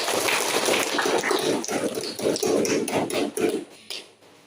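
A classroom of students applauds, with a dense patter of many hands clapping at close range that thins out and stops after about four seconds.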